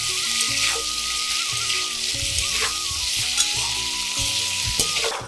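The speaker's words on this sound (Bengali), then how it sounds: "দিয়ে দেবো হলুদের গুঁড়ো, দিয়ে একটু কচুগুলোকে ভেজে নেব।" Pieces of taro (gathi kochu) fry with turmeric powder in a pan, giving a loud, steady sizzle broken by frequent scraping stirs.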